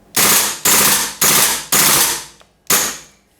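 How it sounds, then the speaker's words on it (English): A WE PCC gas blowback airsoft gun on full auto, loud and close: five sharp, hissing gas bursts with mechanical clacks in a steady, fast rhythm, each tailing off before the next. "then we've got full auto."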